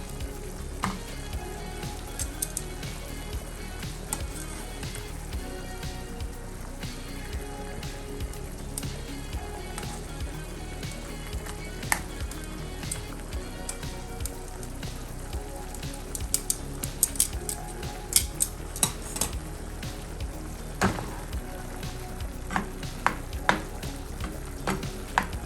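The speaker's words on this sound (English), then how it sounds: "got it sauteing" Food sautes in a hot pan with a steady, close sizzle and occasional stirring clicks. The dish is garlic steak and shrimp with Brussels sprouts and potatoes, and the frying runs continuously with no talk.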